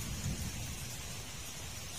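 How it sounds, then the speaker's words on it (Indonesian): Steady rain falls during a flood in Pasuruan, East Java, a dense continuous patter with a low rumble beneath, moderately loud and with no voices. "Hujannya tadi deras, sekarang udah agak kecil, tapi masih belum berhenti"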